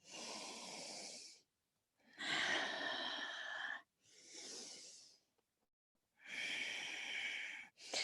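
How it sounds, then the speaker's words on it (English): Slow, deep breaths during a yoga class: four long, airy inhales and exhales, each lasting one to two seconds and separated by short silences, heard close and alone. "Slow, deep breaths."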